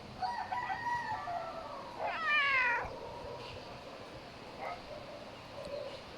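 A cat meows a few times, including one louder rising-and-falling call near the middle, close by with a faint outdoor background and no talking.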